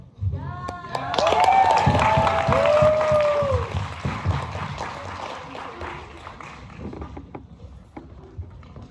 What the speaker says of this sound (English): clap along, clapping is a big thing, chanting is a big thing